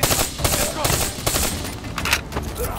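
Rapid bursts of gunfire from the video game Call of Duty: Black Ops 3 rattle loudly and densely, mixed with game effects and a voice talking over the shooting.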